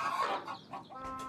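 Close, brief clucks and soft peeping from farm chickens, with hens and chicks calling in a couple of short bursts.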